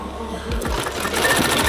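A sewing machine stitches denim at a jeans workshop, with a steady rapid mechanical rattle, close and continuous, sewing without a strap.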